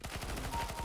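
Rapid gunfire from a P2000 pistol in the Fortnite video game, a dense run of repeated shots crackling steadily through under a second with no talk.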